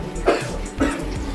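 A child coughs twice in short bursts, close by, with a gap between them and room noise around.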